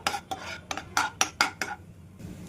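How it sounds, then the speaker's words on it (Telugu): Garlic being stirred in melted butter, a spoon scraping and clinking against the pan in a quick series of sharp, close strokes, with no talk. "ఇప్పుడు దీంట్లో ఒక స్పూను గార్లిక్ వేసుకుని ఒకసారి పచ్చివాసన పోయేంత వరకు కలుపుకుందామండి"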